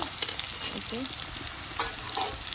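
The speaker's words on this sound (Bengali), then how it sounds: "আমি ভাজিটা বাগার বসাই দিছি এইখানে যে তেল দিয়ে" Vegetables sizzle and crackle in hot oil with a spice paste while a utensil stirs and scrapes the pan, steady and close throughout.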